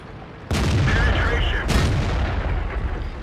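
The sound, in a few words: tank cannon shot bouncing off armor in World of Tanks video game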